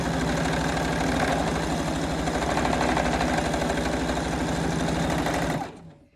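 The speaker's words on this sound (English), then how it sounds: "And then put your two seams together and continue to sew." A sewing machine runs steadily as it stitches a seam on a lace-edged scrunchy, a close, continuous rapid mechanical whir and clatter that stops abruptly near the end.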